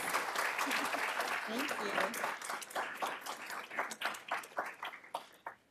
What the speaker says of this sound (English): So can we have a round of applause for all the research associates?